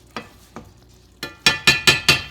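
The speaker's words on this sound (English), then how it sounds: "let them heat up a little bit. Stir them around with the onion" Beans and onion being stirred around a hot pan, with a string of sharp scraping strokes that come faster and louder toward the end, close and clear with no talking.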